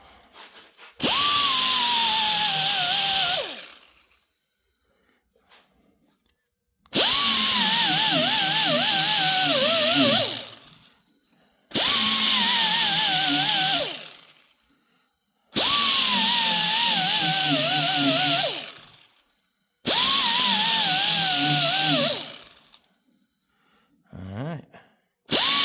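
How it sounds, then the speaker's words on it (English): A power sander with a 180 grit disc grinds down a JB Weld rust repair under light pressure, running in five loud bursts of about three to four seconds each, separated by short pauses. "I'm about to sand down this JB weld here we used for the rust repair"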